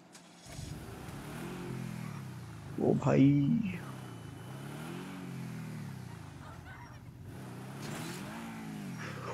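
A Lamborghini in GTA 5 revs and pulls away, its engine note rising in waves with a sharp louder burst partway through, while someone speaks over it.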